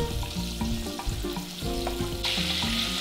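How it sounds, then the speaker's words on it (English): Japanese fried chicken deep frying in hot oil gives a loud, constant bubbling sizzle throughout, with a steady musical tune playing underneath. "we take it out, let it rest for a minute or two, and then deep fry it again."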